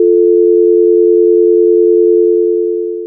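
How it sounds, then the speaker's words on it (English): A steady, loud electronic telephone tone hums without a break, a pure continuous pitch that fades slightly at the very end. "if you pick up the telephone receiver, you should be able to hear a dial tone"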